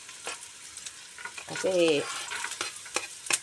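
A ladle scrapes and clatters in a pan while garlic and onion sauté in sizzling oil, with repeated close stirring strokes over a continuous hiss and a brief word of speech.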